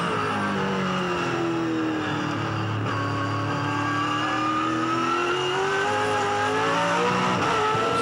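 A 2007 V8 Supercars race car engine screams steadily at high revs, its pitch wavering and rattling against the rev limiter, loud and continuous with no voices.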